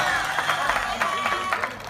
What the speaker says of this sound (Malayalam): ഉഷാറായിട്ട് കൈയടിച്ചാൽ